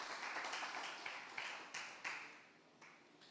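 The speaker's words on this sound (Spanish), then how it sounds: "Dale fuerte esas palmas al Señor." A church congregation at a Friday service claps in a dense, roomy wash of many hands, with sharper accents at irregular moments and the applause fading toward the end.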